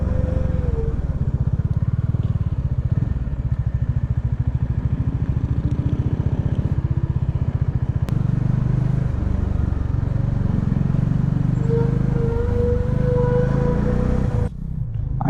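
Bajaj Dominar 400 motorcycle cruising steadily at highway speed, a continuous loud engine drone with rushing wind noise throughout, briefly dipping near the end.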